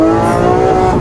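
A Lamborghini SVJ engine sounds loud and close in a brief, steady rev, with a strong sustained tone and no speech.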